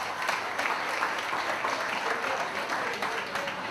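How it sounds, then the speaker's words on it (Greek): Steady, dense applause from an audience greeting a player being introduced at a team presentation, continuous and fairly loud throughout with no voices on top. "Ένα μεγάλο χειροκρότημα λοιπόν και στο Σοκράτη μας."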